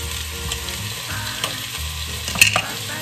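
Minced garlic and onion fry in a pan, giving a steady close sizzle with brief stirring clicks and scrapes, and no talking.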